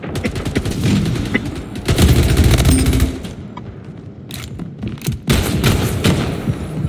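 Rapid bursts of gunfire from the Splitgate video game, dense and fairly loud, with a heavier volley near the middle and scattered shots continuing throughout, no speech.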